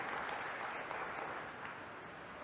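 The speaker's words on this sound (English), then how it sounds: "If you could join me to give a round of applause for both teams" An audience at a school English debate applauds both teams, a steady, even clapping that sounds a little distant and softly recorded and holds throughout.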